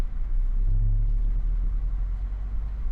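A Mazda MX-5 RF sports roadster with a six-speed manual gearbox drones with a deep, close engine rumble that swells briefly, then holds steady under road noise.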